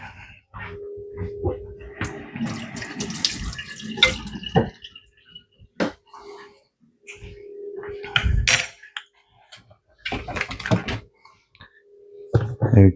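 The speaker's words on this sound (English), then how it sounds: "Give my spoon a rinse." Kitchen tap running while a spoon is rinsed in a sink while making chilli powder, with splashing water, clinks of metal on dishes and intermittent bursts of flow, close by, with a person talking at moments.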